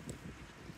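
Cold winter wind blowing outdoors during a stroll, a steady rushing buffet against the microphone for under a second.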